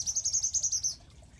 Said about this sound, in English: right now, they're baby spice finches